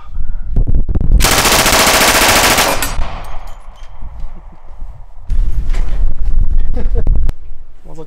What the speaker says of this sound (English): Tommy gun, or rather the Thompson 1928.